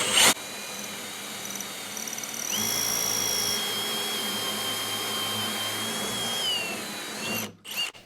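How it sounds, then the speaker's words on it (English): A power drill whines steadily for several seconds at close range, its pitch shifting slightly as it bores through, then stops. "So we'll drill this first hole."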